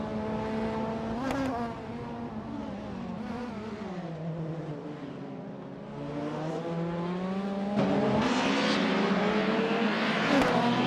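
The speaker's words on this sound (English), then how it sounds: "We're currently watching some exciting AI car races." AI-driven race cars in a racing video game roar past with buzzing engine tones that rise and fall as they shift and accelerate, several cars overlapping and the pack growing louder toward the end.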